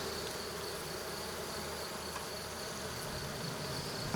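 A small swarm of honeybees at an apiary hive, giving a steady, even buzzing drone heard outdoors at moderate distance throughout, with no voices.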